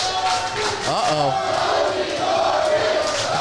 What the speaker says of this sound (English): Doesn't sound like this crowd is behind Jaysin Strife